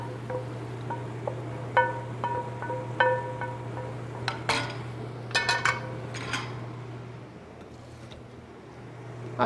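Metal pots, pans and utensils clink and knock in a home kitchen as cooked food is shifted into a smaller pan, with scattered sharp clatters over a steady low hum.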